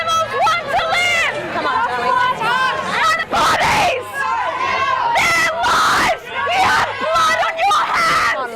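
A crowd of protesting activists shouts and screams excitedly inside a restaurant, overlapping loud voices rising and falling in an echoing indoor space.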